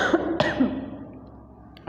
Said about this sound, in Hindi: खांसी बहुत आ रही है अभी भी